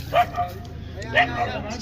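Two short dog barks or yips, close by and fairly loud, about a second apart, heard at a lively gathering with steady background chatter and voices.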